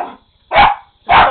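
A Lakeland Terrier in a bathroom barks sharply three times in quick succession, loud and close, with short pauses between barks.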